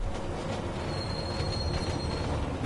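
Train rolling along in Deus Ex: Mankind Divided, a steady rumbling wheel-on-rail drone with a faint high squeal, continuous and fairly close, no talking.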